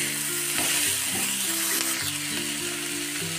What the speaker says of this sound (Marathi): आता टोमॅटो फ्राय करून घ्यायचा मिनिटभर।